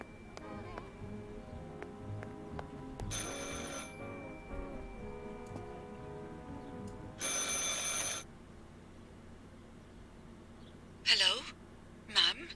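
An old telephone rings in the Martha Is Dead video game, with a long trilling ring and then two shorter bursts, fairly loud against a quiet, low background.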